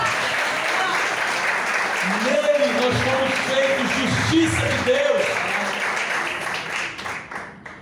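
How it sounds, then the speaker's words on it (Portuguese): Church congregation applauding during a sermon, loud sustained clapping with a preacher speaking over it, fading toward the end. "Você pode aplaudir a palavra do Senhor, irmão?"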